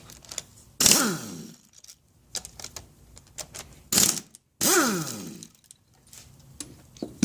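A damaged piston being drawn out of a Johnson/Evinrude 90 HP outboard powerhead: a few close metallic clunks and scraping bursts with quiet pauses between them, and no voices.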